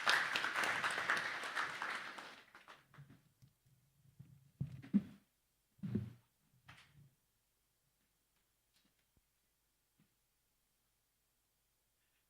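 A short burst of audience applause at a bank breakfast meeting fades within about two seconds, followed by scattered soft knocks and shuffling in a quiet room.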